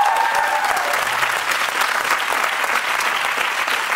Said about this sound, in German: großer Applaus für dich natürlich.